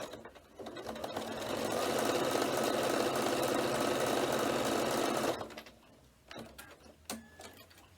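Sewing machine running steadily while top stitching the edge of a fabric notebook case, a fast even whirring hum for several seconds that stops abruptly, followed by a few quiet clicks and handling sounds.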